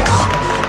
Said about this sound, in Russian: Аплодируем ему!